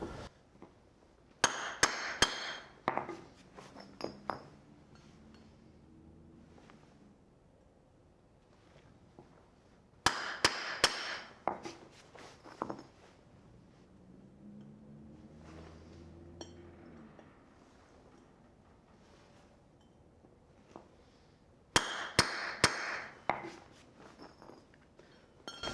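Hammer striking a steel chisel to split a concrete paver by hand, three bursts of sharp ringing metallic blows spaced apart, each a quick series of strikes, close with quiet gaps between.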